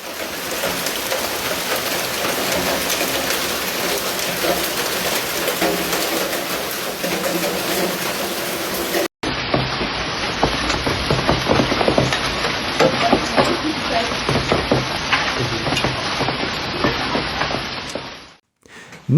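Hailstones batter houses and yards in Eberndorf, Austria, as a dense, continuous clatter of hard impacts that carries on through two recordings with a cut in between, with bird cooing faintly in the background.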